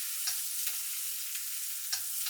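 A bream fillet fries skin-side down in a pan with a steady, bright sizzle that carries through the whole stretch, plus a few soft taps as it settles, close and with no voices.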